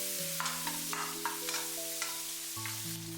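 Pork belly fries in a wok with a soft, continuous sizzle and light, regular scraping taps from stirring, all under prominent background music.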